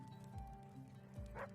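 Sled dogs in The Red Lantern give a couple of short, fairly faint barks spaced about a second apart, with a higher yip at the end.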